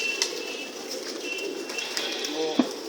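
Rampur pigeons coo softly amid occasional wing flaps, with a steady low murmur of background noise and a sharper flutter near the end.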